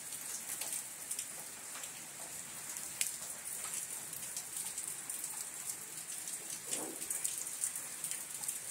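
Morning rain falls steadily, a soft, even hiss of drops on surfaces with scattered louder drips, fairly faint and with no voices.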